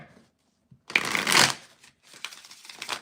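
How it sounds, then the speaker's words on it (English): Tarot cards are shuffled by hand in two close bursts, the first a loud riffling flutter of about half a second, the second a softer, longer shuffle after a short pause, with no talking. "Shuffle again here."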